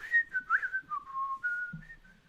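A man whistles a wandering tune while mopping a school floor, the melody clear and close, with a few soft bumps and shuffles underneath and no talking.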